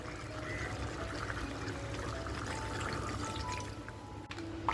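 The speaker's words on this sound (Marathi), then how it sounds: "तेवढंच पाणी आपण इथे टाकणार आहोत." Water from rinsing a masala grinding stone is poured into crab masala frying in a clay pot over a low gas flame, a soft steady pouring and bubbling sizzle heard close up, with no talking.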